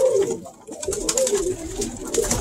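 Pigeons cooing in a loft during a daily routine with breeding birds, soft low coos repeating steadily over faint background rustle, no talk.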